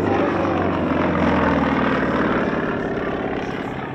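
Propeller aircraft flying in formation at an air show at Boboc, a steady loud engine drone holding for the whole stretch and easing slightly toward the end.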